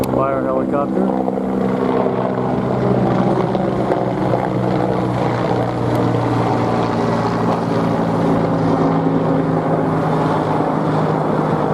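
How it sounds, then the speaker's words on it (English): Fire helicopter passing directly overhead: a loud, steady rotor and engine roar with heavy wind buffeting on the microphone, holding strong throughout. "Fire helicopter."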